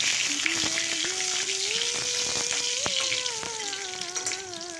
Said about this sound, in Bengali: সর্ষের তেল দু চামচ দিয়েছি আর শুকনো লঙ্কা দিয়ে দিলাম